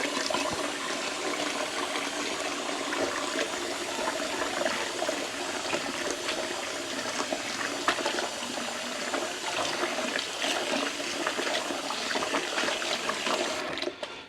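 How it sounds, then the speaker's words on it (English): Running water pours into a kitchen sink while a pan that cooked scrambled egg and spinach is washed, giving a steady, continuous rushing splash that stays fairly loud throughout. "I tend to wash it and then put it back on so that it's ready for next time"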